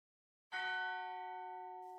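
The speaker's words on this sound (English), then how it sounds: "Alloyed bronze bell." An alloyed bronze bell in the Minecraft Create: Arcane Engineering modpack strikes once, a clear ringing tone with bright overtones that sounds after a brief silence and decays slowly, alone and undisturbed.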